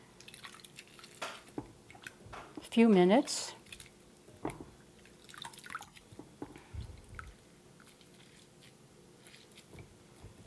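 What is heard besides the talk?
squeezing and mashing plant material in water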